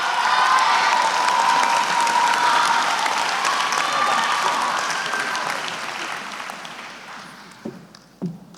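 Sustained audience applause at a university graduation ceremony, a dense wash of clapping from a large crowd that gradually thins and fades toward the end, with a few scattered late claps.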